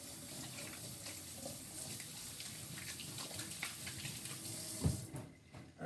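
Hands rinsed under a running kitchen tap while making rice bran bed pickles, a steady close rush of water splashing into the sink, with a brief clunk and a dip near the end.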